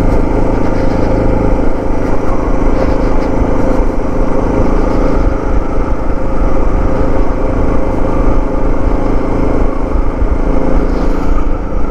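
A Suzuki DR650 dual-sport motorcycle holds a steady, loud engine drone in second gear on a Rocky Mountain trail, with constant rumble and wind noise and no pauses.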